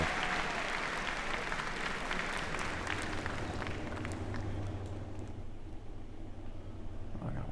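A crowd at the E3 2017 Sony press conference applauds in a dense, continuous roar of clapping that slowly thins and fades toward the end, with a low hum underneath.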